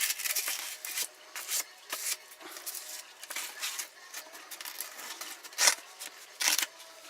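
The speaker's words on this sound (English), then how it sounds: "So I'm going to cut this in half and rub them together." Two pieces of 240 grit sandpaper rubbed together, a close, dry scratchy rasping in uneven strokes with a few louder scrapes toward the end.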